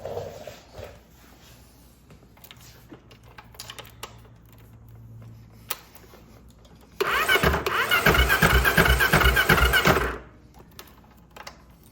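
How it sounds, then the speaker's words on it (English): Electric starter cranking a Zongshen 190cc engine fitted to a Honda CT70, heard as a loud, rhythmic chugging burst of about three seconds, close up after quieter clicks and handling noises, with the engine not catching. "let's go ahead and give this starter a try and see if she'll crank the engine over"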